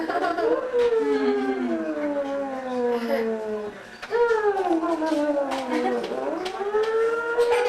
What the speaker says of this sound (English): There's a police car driving around to me.